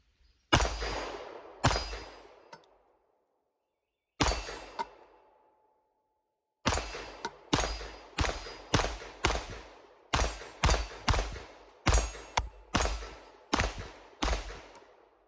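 A Shadow Systems pistol fired outdoors through a magazine, starting with a few spaced loud shots, a pause, then a rapid steady string of sharp cracks, each with a short ringing tail.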